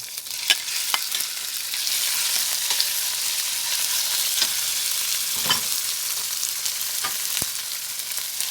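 Pork stir-frying in a home kitchen pan for a dish with sweet peppers: a steady bright sizzle throughout, broken by several sharp scrapes and clicks of the spatula, close and fairly loud, with no talking.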